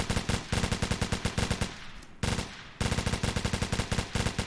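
Sustained automatic gunfire in the military shooter Operation Flashpoint: Dragon Rising hammers out loud, rapid, evenly spaced shots in long bursts, broken by a brief pause before the firing resumes up close.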